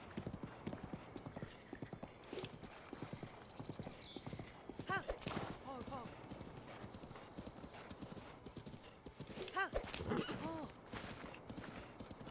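A horse gallops in Zelda: Breath of the Wild, its hooves clip-clopping in a steady rhythm throughout, with a couple of snorts or neighs and a voice talking over it.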